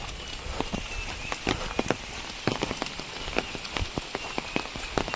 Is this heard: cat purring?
no